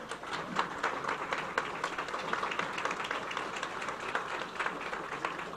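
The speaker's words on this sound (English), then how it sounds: "Shall we stand up and give them a round of applause for their accomplishments?" An audience at a university commencement ceremony gives a sustained round of applause for the graduating class, steady dense clapping at moderate distance without pause.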